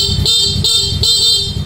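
A loud, close stock motorcycle horn on a Yamaha Mio Soulty with a weak battery honks three times in quick, evenly spaced bursts over an idling engine.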